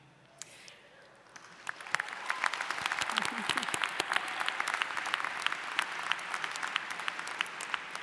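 An audience at a university new student convocation bursts into loud, sustained applause, many hands clapping densely after a quieter opening with murmuring.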